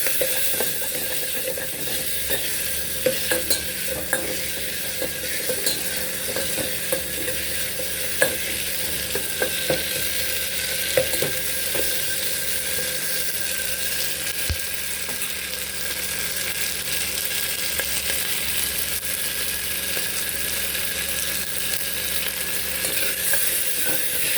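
Chopped tomato pieces for tomato rasam sizzle steadily in a pan, a continuous close frying hiss with occasional scrapes and clicks of stirring, no talking.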